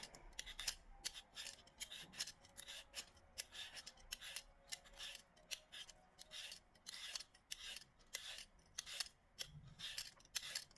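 Potatoes are peeled with a hand peeler for Kenyan-style bhajia, making a quiet series of rapid, scraping strokes in uneven bursts that continue throughout.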